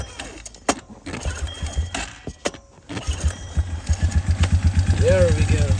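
A Suzuki Ozark ATV is cranked on its battery. A few short bursts of the starter come first, then the engine catches and settles into a steady, rapid idle putter close by. Faint jangling and handling noises are heard alongside.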